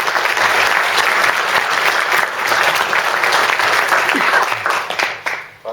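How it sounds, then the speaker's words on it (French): Audience applause at a physics lecture, a dense steady clapping from a roomful of listeners that holds for several seconds, then thins and fades out near the end. "On peut l'applaudir déjà pour l'autre"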